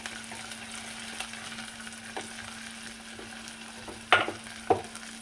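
Onions sautéing in hot oil with curry leaves and turmeric for a soybean fry give a soft, continuous sizzle under a low steady hum, broken near the end by two sharp utensil clacks against the pan.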